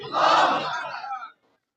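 A crowd at an outdoor Quran mahfil chants takbir together in one loud unison shout, swelling and then cutting off into silence.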